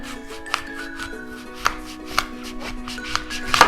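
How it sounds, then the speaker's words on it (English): A knife cuts through a Granny Smith apple in a home kitchen with a few sharp, crisp chops landing on a board, spaced irregularly over a steady background drone, with no talking. "you're gonna cut the apple in half"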